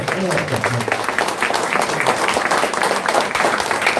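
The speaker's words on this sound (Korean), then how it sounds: "새로운 박수로 청하고" An audience applauds at a political endorsement rally for a local election candidate, a dense, steady wash of clapping mixed with crowd voices.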